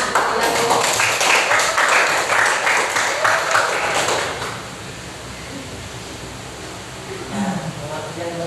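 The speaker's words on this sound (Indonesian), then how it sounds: "Tepuk tangan, kita dulu." A classroom of students claps together in a dense burst of applause for about four seconds, then it drops away to quieter room noise with faint murmuring.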